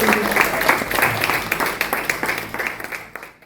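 Church congregation clapping loudly for a few seconds, a dense burst of many hands with individual claps standing out, easing off at the end.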